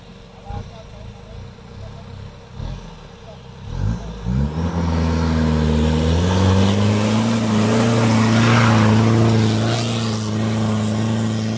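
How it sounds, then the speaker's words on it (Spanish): Off-road 4x4 on a wet trail revving hard at full throttle up a slope, engine note climbing and holding loud after a few short blips, with people talking nearby. "Sube o que da o coche a fondo, a ver si vai."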